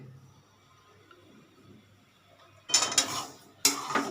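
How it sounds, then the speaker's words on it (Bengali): Rice flour and wheat flour are dry-roasted in a pan, with a quiet stretch followed by two close bursts of a utensil scraping and clattering against the metal pan. "আমি চালের গুঁড়োটাকে একটু টেলে নিচ্ছি যাতে কাঁচা ভাবটা না থাকে"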